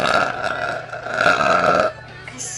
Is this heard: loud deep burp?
yes